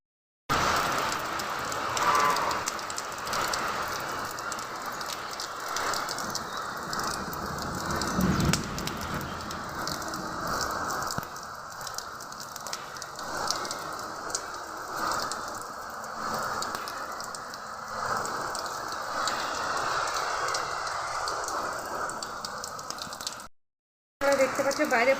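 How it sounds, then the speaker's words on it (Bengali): Heavy rain pours outside during a thunderstorm, a steady dense hiss of falling water close by that holds for about 23 seconds, then briefly cuts out before resuming. "দেখতে পাচ্ছ বাইরে প্রচুর বৃষ্টি হচ্ছে"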